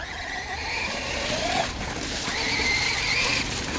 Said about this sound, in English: That was the handbrake turn right there.